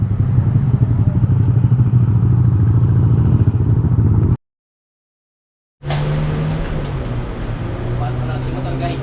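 Yamaha Aerox V2 scooter engine idling and revving in a garage, a steady loud drone that cuts out briefly, then resumes with a lower engine note as voices talk over it.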